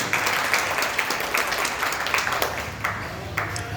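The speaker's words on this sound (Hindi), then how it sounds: "जोरदार ताली होनी चाहिए।" Loud, dense applause from a gathered audience at a school event welcoming the IT head, a steady wash of many hands clapping close by with no talk over it.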